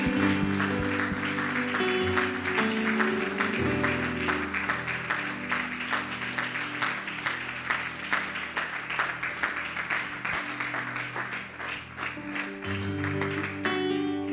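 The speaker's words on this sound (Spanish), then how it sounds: "Denle un fuerte aplauso al Señor Jesús" A church congregation applauding during a Sunday service, sustained steady clapping mixed with music-like tones and faint voices throughout.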